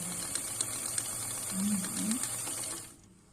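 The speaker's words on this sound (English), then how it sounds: "So this is literally an edge stitch, top stitch." A sewing machine edge-stitches and top-stitches around a shaped fabric face mask. A brief, faint motor whir with light mechanical ticking fades out into quiet.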